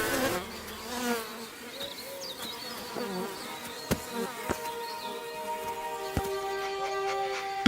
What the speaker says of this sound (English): The workers' angry buzz is a warning